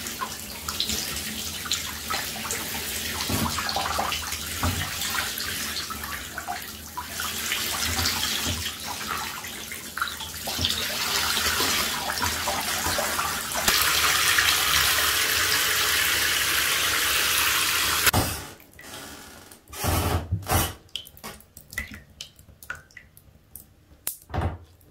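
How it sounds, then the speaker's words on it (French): Tap water runs steadily while hair is rinsed after dyeing with a Schwarzkopf Palette colour, a constant splashing wash that cuts off abruptly near the end, followed by scattered drips and short bursts of running water. "Ça y est, mes cheveux sont rincés."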